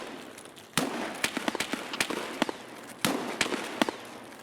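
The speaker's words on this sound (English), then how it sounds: "There are still a lot of shots going around" Gunfire in the shooter game Escape From Tarkov on the Streets of Tarkov map: a scatter of sharp cracks and bangs, some near and some distant, sounds in irregular bursts over a quiet background.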